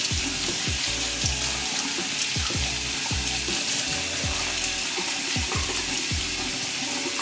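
Tap water runs steadily over lipstick swatches on skin, a continuous close splashing wash with faint rubbing and low knocking thumps recurring throughout.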